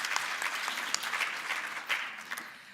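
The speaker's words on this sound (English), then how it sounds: "Hand of applause, please." A conference audience applauds at a national space conference session, giving a steady patter of clapping hands that holds at a moderate level throughout the clip with no talk over it.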